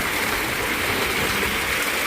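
Natural mountain water on Girnar flows down in a continuous, even rush, loud and close, with no voices over it.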